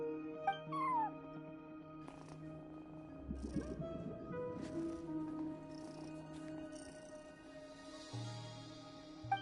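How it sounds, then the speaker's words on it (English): A cat meows repeatedly in the video game Genshin Impact, with a few short calls and a longer drawn-out meow, heard close up over a steady ambient music bed. "No one except for a cat watching over the front desk."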